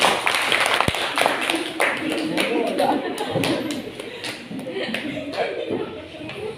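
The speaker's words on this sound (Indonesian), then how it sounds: "Kita kasih tepuk tangan kepada kawan." A class gives applause for a classmate who answered a biology question, many hands clapping in an uneven patter with chatter and shuffling, and talk continuing over it.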